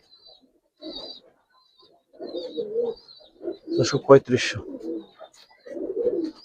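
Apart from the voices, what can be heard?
pigeons cooing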